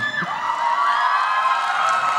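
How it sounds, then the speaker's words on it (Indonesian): A live comedy show audience loudly cheering and shouting for a grand-finalist stand-up comedian, a sustained wall of crowd voices with whoops rising over it. "Teriakan dari pendukung Ardit ya."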